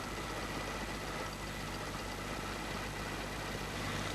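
A carbureted petrol engine idles steadily and alone, a continuous low rumble with a broad even hiss, moderately loud and unchanging for the whole span.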